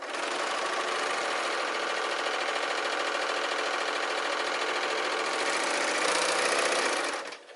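A sewing machine runs steadily, stitching a fabric cuff seam, a loud continuous mechanical whir lasting about seven seconds before it stops abruptly, with no talking.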